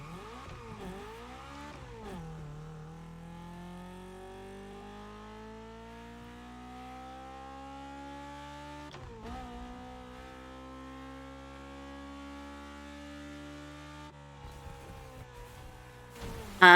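In the racing game The Crew Motorfest, a Honda car accelerates hard from a standing start, its engine note climbing steadily through several gear changes in one sustained run with no talking.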